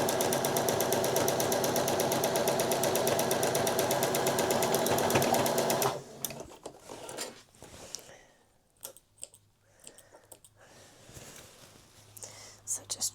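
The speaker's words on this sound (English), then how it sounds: "just basically sewing down two sides of the fabric" A sewing machine stitches down two sides of a fabric gift bag made from old clothes, running in a loud, continuous burst for about six seconds. Soft handling noises and quiet speech follow.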